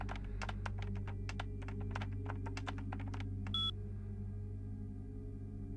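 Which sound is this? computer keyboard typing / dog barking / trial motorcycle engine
computer keyboard typing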